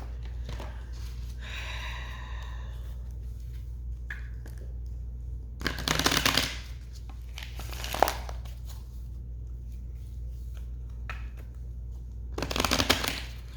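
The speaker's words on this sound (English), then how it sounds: "This is the love pack that I'm shuffling right now." Wizard's Tarot love deck cards being shuffled by hand, three separate bursts of riffling and papery slapping close up, with quieter card handling between them against a low steady hum.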